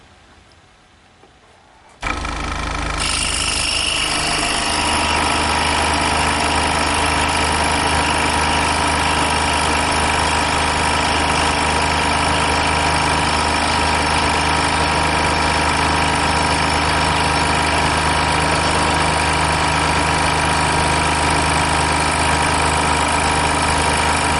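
A scroll saw cross-cutting a pine board block starts up after a brief quiet moment, then runs as a loud, steady motorised buzz with a constant rattling vibration for the rest of the time, with no talking.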